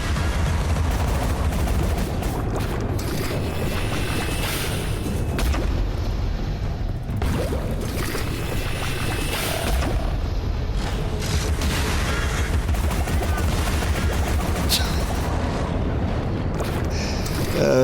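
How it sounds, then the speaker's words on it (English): Mortar-strike explosions in the video game Alice: Madness Returns, a long, dense stretch of repeated booms and crackling blasts, loud and close, rolling on with no clear gaps and no voices. "Boom. Bloody mortar strike."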